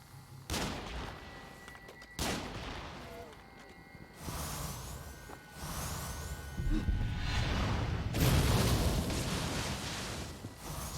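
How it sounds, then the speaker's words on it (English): Enemy gunfire in the game Nioh 2: repeated loud bursts of shooting and blasts arrive every couple of seconds, building into denser, sustained volleys toward the end over a low rumbling background. "He can't stop shooting."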